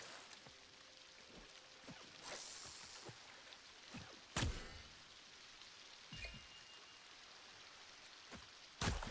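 Soft, steady rainfall in LEGO Fortnite patters continuously, with a few sharp louder splashes or thuds breaking through at intervals; no voices.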